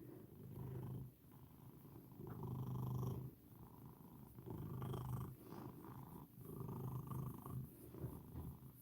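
A cat purrs close and steadily in a quiet room, the soft rumbling rising and falling with each breath in a slow rhythm, with no talking.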